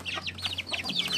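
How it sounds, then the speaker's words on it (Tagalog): Several pet chickens cluck in quick, overlapping bursts at close range, with a low steady hum underneath. "Pakita ko sa iyo mga alaga ko manok."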